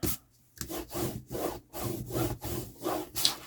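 Firm rhythmic rubbing strokes as paper is burnished onto a Stamperia cover, about eight scraping passes in a steady back-and-forth pattern, close and fairly loud with short pauses between strokes.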